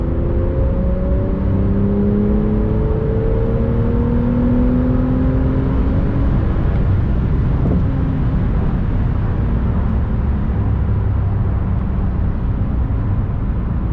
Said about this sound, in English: You do have to push the car hard for the engine to come to life, and there you go.